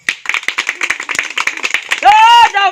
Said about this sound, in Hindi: लगाओ ताली।